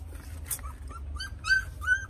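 Newborn puppy whimpering and yipping in a series of short, thin, high cries that grow louder toward the end, close by with no talk over them.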